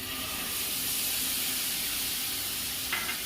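A paste of poppy seeds, onion, ginger and garlic fries in a pan with a loud, steady sizzle and hiss that stays close and even, with a brief scrape near the end.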